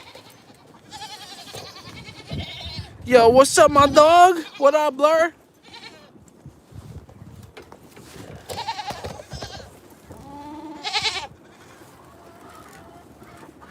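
Goats bleat loudly in a close cluster of overlapping cries, then again more sparsely later, amid farmyard shuffling while someone talks and greets someone.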